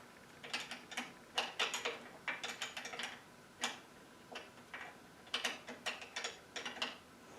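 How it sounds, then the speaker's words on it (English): A small included wrench works a bolt loose on the front suspension of an RC car, giving close, quiet clicking and ratcheting ticks in irregular bursts. "So you've got a bolt on your front suspension that we're going to undo. With the included wrench."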